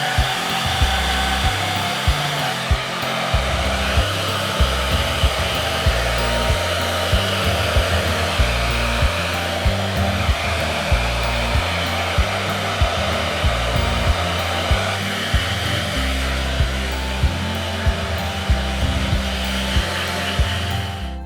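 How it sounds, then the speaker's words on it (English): A handheld hair dryer fitted with a wide nozzle blows steadily at close range while drying medium-length hair, a constant loud whooshing hum with slight fluctuations in airflow and no talking. "put the wider nozzle on it and then we'll just begin blow drying"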